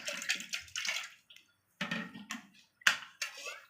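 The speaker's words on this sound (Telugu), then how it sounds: "మామూలు వాటర్ని కూడా పోసుకుందాం కొంచెం" Water is poured into a pan of sugar syrup in several short bursts with pauses between, splashing nearby; no talking.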